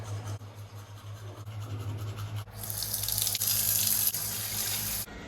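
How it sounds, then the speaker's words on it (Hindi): Water rushes into a tank from a pump motor's pipe, first a low steady hum with trickling, then a louder, brighter gush of flowing water for a few seconds before easing off. "अभी हमने चलाई है मोटर, क्योंकि भाई टैंकी में पानी ख़त्म हो चुका था"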